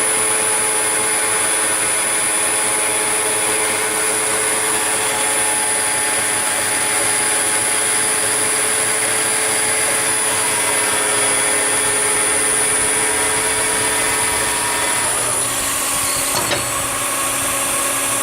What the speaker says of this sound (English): Spindle sounds pretty good down here.